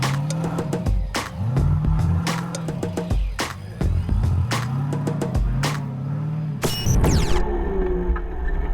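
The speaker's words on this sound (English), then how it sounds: "But finishing with a perfect 100 points and sounding like a V8 supercar is the Rathbones in their Toyota." A Toyota 4WD at an extreme winch challenge event in off-road terrain revs hard and loud, its engine surging and dropping in repeated bursts with sharp mechanical clatter between throttle blips.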